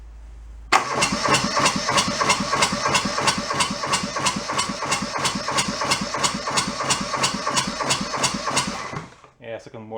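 A junked small diesel engine cranks and fires into a loud, rapid, evenly pulsing knock that runs steadily close by before cutting out near the end.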